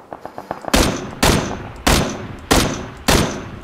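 Gunfire in PUBG (PlayerUnknown's Battlegrounds): five loud, sharp shots spaced roughly half a second apart, each with a booming tail, preceded by a few fainter distant pops, with no talking.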